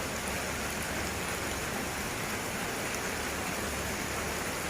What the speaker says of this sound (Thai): ฝนก็ยังตกอยู่เหมือนเดิมนะครับ